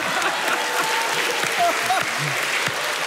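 Applause fills a roast venue, a broad wash of clapping that holds constant with faint voices scattered underneath.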